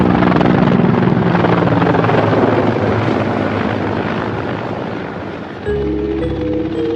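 Mi-24 combat helicopter in flight, a loud continuous rotor and turbine roar that holds steady, then shifts to a slightly different tone near the end.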